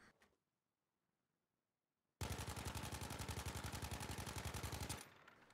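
Automatic gunfire in the video game Battlefield V, a loud sustained burst of rapid evenly spaced shots lasting about three seconds after a near-silent pause, ending abruptly.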